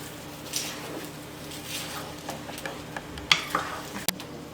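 A spoon scrapes and taps around a bowl as a fish biryani mixture is stirred, soft irregular clinks with a few sharper knocks near the end.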